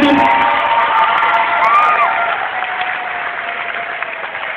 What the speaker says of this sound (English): Let's give our sound guys a round of applause,